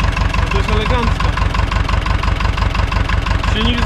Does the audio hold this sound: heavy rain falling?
no